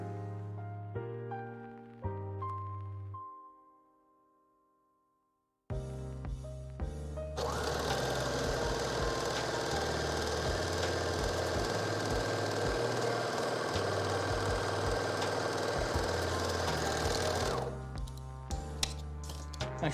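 Sewing machine stitching tote bags, starting after a brief musical intro and a pause, then running in a steady loud whir with a dense rapid needle rhythm for about ten seconds before stopping, with no talk.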